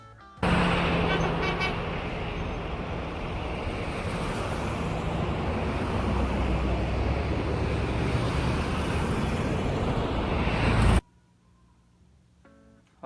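Outdoor traffic roars past for about ten seconds, a loud, steady broadband wash of cars on the road, then cuts off abruptly into near silence.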